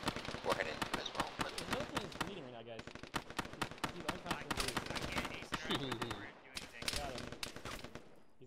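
Rapid bursts of automatic gunfire and scattered shots from an Arma ShackTac firefight, dense and sharp throughout with brief pauses, some reports near and others farther off, with voices faintly mixed in.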